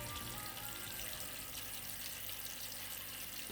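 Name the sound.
aquarium water flowing down moss into glass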